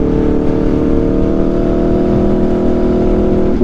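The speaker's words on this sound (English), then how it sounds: "it sounds like a really smooth exhaust" Aprilia RSV4 motorcycle with an SC-Project exhaust revs steadily, a loud, close, continuous engine drone holding an even pitch with no speech.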